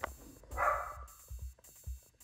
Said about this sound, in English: Sorry, Drago's barking, so I'm trying to eliminate that a little bit